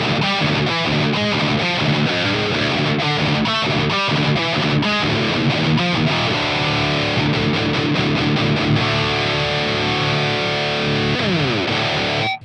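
Dense, heavily distorted electric guitar through a Boss GT-1000 Orange Rockerverb amp model with the EQ block off, chugging rapid palm-muted riffs, then held ringing chords, loud and saturated throughout.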